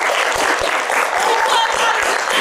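Audience at a live improv comedy show applauding for the blue team, a steady, dense wash of clapping that fills the whole stretch at close range and holds loud and even throughout.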